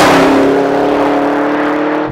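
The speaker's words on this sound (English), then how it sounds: "Crossing the start-finish line in the Camaro ZL1" A Chevrolet Camaro ZL1 engine roars loud and steady at high revs on the Laguna Seca race track, a sustained near drone holding its pitch for two seconds before easing slightly at the end.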